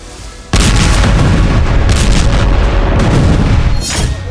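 Israeli air strikes hitting the Al Fakhoora school in the Gaza Strip, a loud, sudden explosion followed by sustained roaring rumble and debris noise, very close and overwhelming.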